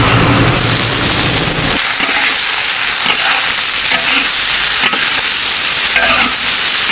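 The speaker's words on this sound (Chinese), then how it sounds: "那个茄子都被我们蒸得那么熟了，炒一下它会更香嘛。" Steamed eggplant and leeks are stir-fried in a hot wok with oil, sizzling loudly and continuously while a spatula scrapes and stirs close by.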